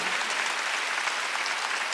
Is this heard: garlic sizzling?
no